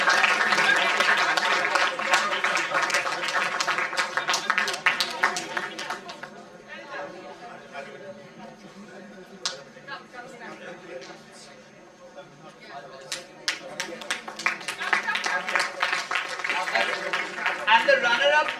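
An audience claps for award winners at a Criminal Justice Research Cell ceremony, with dense bursts of applause at the start and again near the end and chatter and voices in the quieter middle.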